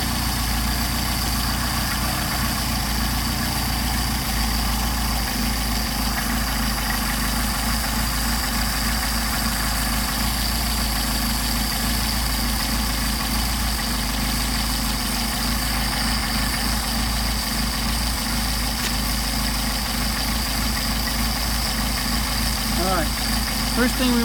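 A Mercedes 190SL engine with Solex carburetors idles steadily and close by, a constant even drone with a low rumble and no change in speed, and a voice is heard over it.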